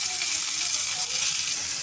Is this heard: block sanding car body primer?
no